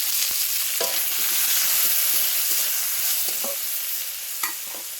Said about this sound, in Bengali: পেঁয়াজটা ভালো করে ভাজা দেখো পেঁয়াজটা ভাজা হয়ে গেছে